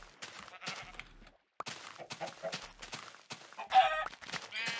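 Chickens in the video game Minecraft cluck in a string of short, close, clucking and bleating calls with brief pauses between them, heard alone without talk.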